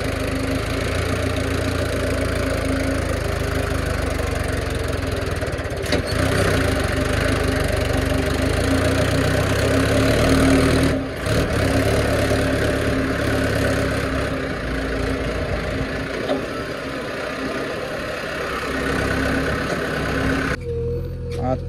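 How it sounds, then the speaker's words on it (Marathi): A farm tractor running at a work site, a loud steady diesel drone with a low throb and brief dips, continuing until it cuts out near the end. "चालू आहे फळीचं ट्रॅक्टर"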